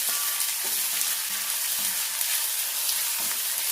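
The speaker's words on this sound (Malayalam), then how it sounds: "ഇത് ഏറെ എണ്ണ ഒഴിച്ച് മീഡിയം ഫ്ലെയിമിൽ കുറയാത്ത തീയിലിട്ട് വേണം വറുത്തെടുക്കാനായിട്ട്" Onion-like slices frying in plenty of hot oil on a medium flame for a Christmas chicken dish, a steady close sizzle with soft stirring scrapes.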